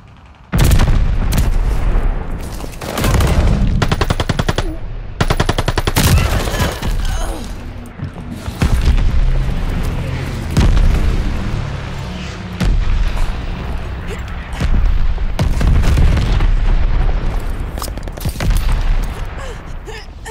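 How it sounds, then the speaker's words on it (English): Repeated loud booms of mortar shells and bursts of gunfire in Call of Duty Vanguard on PS5 crowd a battlefield soundscape, heavy blasts recurring every few seconds with rattling shots between them. "They're sending mortar shells."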